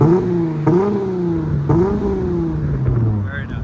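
A 2022 Dodge Charger GT 3.6L V6 fitted with Magnaflow Magnapacks exhaust revs close up in a few quick rising pulls before settling down.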